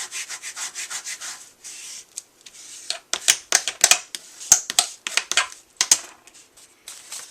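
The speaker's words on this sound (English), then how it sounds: "And I like to take my bone folder and" A bone folder rubbed firmly over paper while crafting a mini envelope, a series of close, dry scraping strokes, slow and even at first, then quicker and louder in short repeated bursts.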